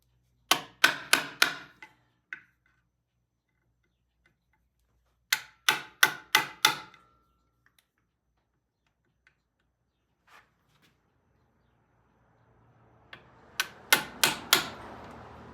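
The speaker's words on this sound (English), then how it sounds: "I'm going to go over it now with the impact tool" A hand impact driver is struck with a hammer on shallow-headed transmission inspection cover screws of a T100, with three close groups of four to five sharp, ringing metallic blows separated by silence.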